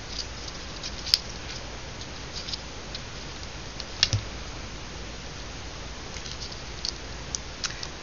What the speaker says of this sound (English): Just a light, steady rain.